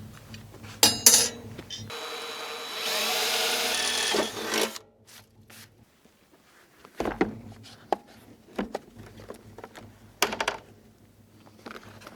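A small rotary tool cutting a steel barrel for a wood stove gives a high, loud whine for about two seconds, followed by short intermittent bursts of grinding and clattering handling noise with quiet gaps.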